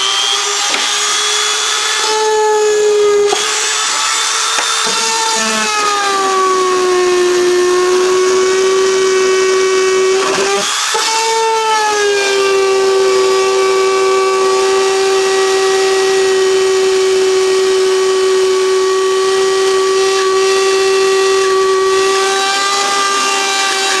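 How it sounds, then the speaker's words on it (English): A Dremel rotary tool fitted with a bit cuts a hole in plastic for a GoPro remote mount, a very loud continuous whine that sags and recovers in pitch as it bites, with a couple of short interruptions, no voices. "so we're going to try Dremel with a bit."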